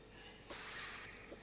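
A single short burst of aerosol spray hisses for about half a second, close by, followed by a fainter trailing hiss in a quiet room.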